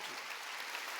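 A church congregation claps together through a worship service, a dense, steady burst of applause filling the room, with no one speaking over it.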